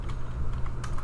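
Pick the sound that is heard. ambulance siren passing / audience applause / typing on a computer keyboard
typing on a computer keyboard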